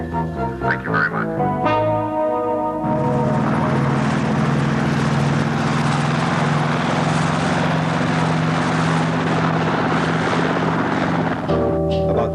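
A loud, steady rotor and engine drone roars continuously for most of the stretch, near and dominant, after a brief moment of other sounds at the start.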